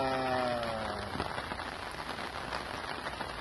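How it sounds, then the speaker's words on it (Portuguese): Steady rain pattering on surfaces at a sailboat moored on a lagoon in southern Santa Catarina, Brazil, a dense even hiss throughout, with a brief tonal bleat-like sound at the start. "Chuva gostosa"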